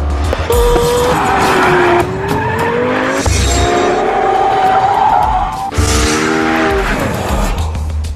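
Lexus LFA engine in Forza 4, revving loud and continuous with rising and falling pitch through gear changes, tires squealing during skids, and a faint crowd in the background.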